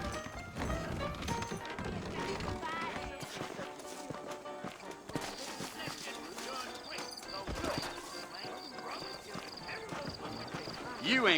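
Horses' hooves clip-clop in Red Dead Redemption, mixed into a dense layer of game music and ambience, with a few sharp clatters and a loud burst at the end; people talk throughout.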